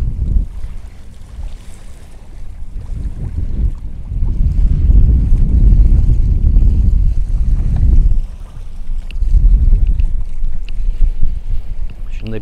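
Strong, steady wind roars across the microphone with rushing water and surging gusts aboard a sailboat heading upwind, loud and continuous throughout.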